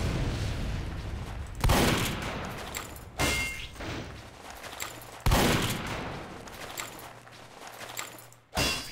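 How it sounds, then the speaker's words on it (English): Rocket launcher firing in the video game Team Fortress 2: four loud, heavy blasts spaced a couple of seconds apart, each with a booming onset and rumbling decay, with no talking. "So use rocket launcher."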